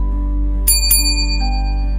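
Notification bell sound effect rings twice in quick succession, bright and clear, with a short gap between the dings over a steady low hum.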